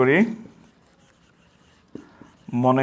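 A teacher writing out a geometry proof during a circle-angle lecture, faint soft scratching strokes in a quiet stretch between speech at the start and end, close but low in level.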